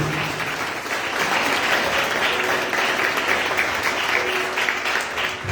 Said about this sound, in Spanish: Dale la aplauso a Jesús.